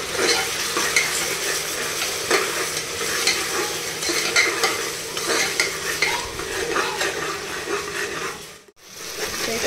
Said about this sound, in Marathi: असा मसाला आता आपल्याला तेलामध्ये छान असा फ्राय करून घ्यायचा आहे